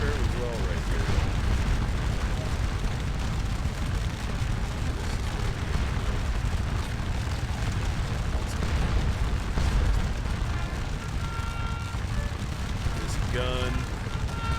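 Artillery cannon fire in Scourge of War: Waterloo during the Ligny battle, a continuous heavy rumble of booms and bursts rolling under the battle noise, loud and dense without pause.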